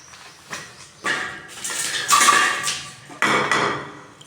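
A buttermilk fertilizer mixture is stirred in a container, giving several distinct knocks and scrapes of the stirrer against the vessel with a sloshing swirl between them, close and moderately loud.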